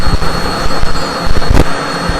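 Learjet jet engines whine steadily at idle after the aircraft comes to a full stop on the ramp, a loud, constant roar with a high tone and a few brief knocks and rattles.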